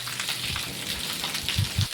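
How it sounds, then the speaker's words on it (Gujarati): Dense, steady rain pours down on farm fields in a village in Gujarat during a thunderstorm, a constant wash of drops, a few heavier low thumps near the end. "હજે પણ વરસાદ ચાલુ જ છે."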